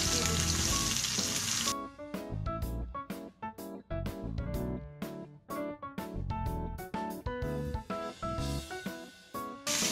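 Chicken skin frying crisp in a pan for omurice, a loud, steady sizzle that drops into a crackling, popping spatter after the first couple of seconds. Nobody talks over it.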